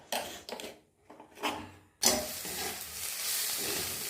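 Egg mixture with onion and capsicum sizzles in oil in a wok, first in short faint bursts as it is stirred, then breaking into a loud, continuous hiss that carries on to the end.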